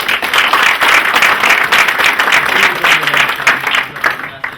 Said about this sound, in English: let's give a round of applause to DLA Piper.